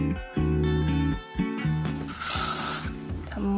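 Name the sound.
hair spray sprayed onto a tail comb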